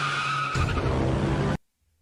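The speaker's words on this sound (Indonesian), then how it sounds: "Bunyi mobil." A car skids with a sustained loud tire screech and roaring engine, shifting tone midway, then cutting off abruptly into near silence.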